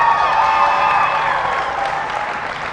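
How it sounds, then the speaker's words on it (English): An audience at a county youth fair and livestock show claps steadily for the exhibitors, a dense, sustained round of applause heard alone without talk. "Great group of exhibitors. I think deserve a big round of applause."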